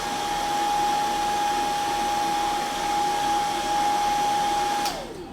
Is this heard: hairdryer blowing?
yes